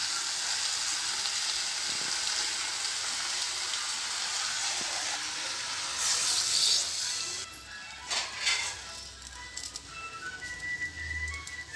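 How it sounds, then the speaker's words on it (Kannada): Vegetable curry with water added simmers on the stove, giving a steady close hiss and sizzle that runs throughout, with a few clinks and bubbling pops toward the end. "ಈಗ ನಾನು ಇದಕ್ಕೆ ಸ್ವಲ್ಪ ನೀರು ಹಾಕಿ ಕುದಿಸ್ಕೋಬೇಕು."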